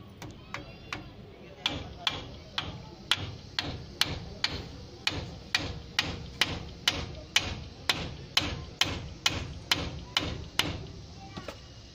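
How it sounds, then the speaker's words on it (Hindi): A hammer drives a king pin into the front axle of an Eicher 1075 tractor: about two dozen sharp metallic strikes in a steady, even rhythm, loud and close, with faint talk beneath. "अब हथौड़े की मदद से हम इस पिन को ठोकेंगे इस प्रकार से।"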